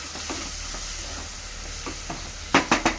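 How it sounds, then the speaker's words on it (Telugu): Onions frying in oil until golden for egg biryani, a steady close sizzle with faint stirring through the clip, then three louder scraping stirs near the end. "ఫ్రై అవుతుంది. మంచిగా ఫ్రై కావాలి. గోల్డ్ కలర్ వచ్చే వరకు ఫ్రై కావాలి."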